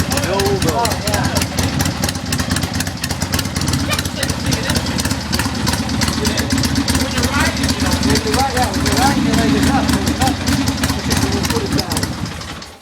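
A 1975 motorcycle engine runs steadily throughout, a continuous mid-pitched mechanical drone with people talking over it.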